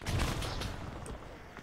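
AK rifle gunfire in the military simulator game Arma 3, a short loud burst of rapid shots up close that fades into a ringing tail, with no talking over it.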